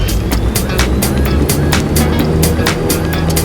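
A Cessna 172S engine roars at full power during a touch-and-go takeoff roll at Caldwell, a loud steady drone mixed with heavy wind buffeting and rumble close to the microphone, with no talk.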